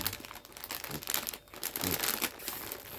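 Plastic bags crinkle and rustle steadily as a parcel of goods is packed, with continuous close crackling and a brief pause midway.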